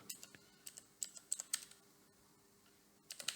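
Fingers typing on a computer keyboard while entering a search term in a MySQL database tool, quiet bursts of close key clicks separated by a short pause, with no voice.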